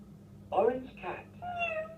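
An orange toy cat gives two short meows followed by a higher, drawn-out meow, moderately loud and close, in an electronic toy setting.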